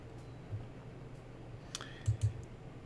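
Faint, sparse computer mouse clicks in a quiet room, a single click followed later by a quick pair.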